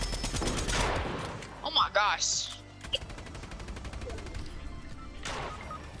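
Shotgun blasts from the video game Fortnite ring out in a burst during a firefight, loud and close, while players shout and talk excitedly over the gunfire.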